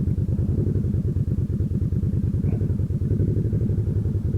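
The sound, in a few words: motorcycle engine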